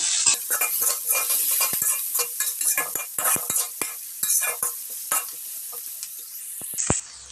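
Onions fry in oil with salt for a shol fish curry, giving a continuous sizzle broken by frequent sharp scrapes and clinks of a spoon stirring against the pan, close and without talk.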